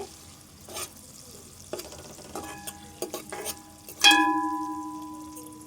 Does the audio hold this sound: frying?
yes